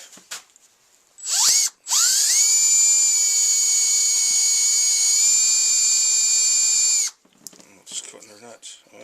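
Power tool cutting metal on a Ski-Doo Expedition snowmobile during suspension and bearing repair: a loud, steady high-pitched whine held for about five seconds, starting and stopping abruptly, with short rattles and a voice around it.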